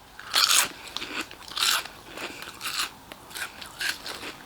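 Crunchy Cheetos corn snacks, bought in Spain, bitten and chewed close up: about six sharp, brittle crunches in an uneven rhythm with quiet gaps between.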